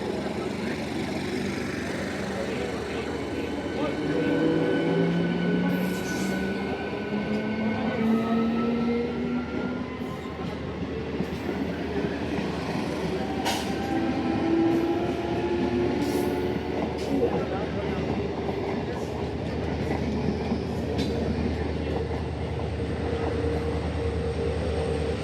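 A modern colourful EMU local train of South Eastern Railway pulling out of a station, its electric motors whining in rising tones over rolling wheel rumble and clacks, loud and near, while a person talks over it.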